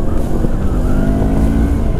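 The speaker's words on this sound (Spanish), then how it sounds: "¿ven el empuje que tiene esta motocicleta?" A CF Moto GT 650 motorcycle accelerating on the road, a steady loud engine drone with wind rush, heard close throughout, with no talking.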